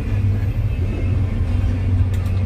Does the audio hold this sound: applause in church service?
no